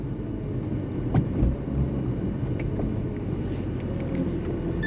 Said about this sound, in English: Now the final test is to drive it around